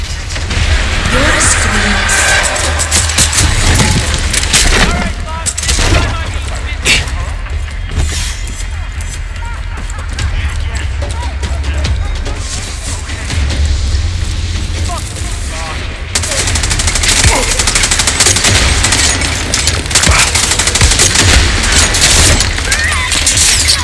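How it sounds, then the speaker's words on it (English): Heavy gunfire in Far Cry 6, with dense bursts of automatic fire and booming shots blending into a loud, continuous barrage that carries through the whole stretch without a break. "Can I just shoot the radio?"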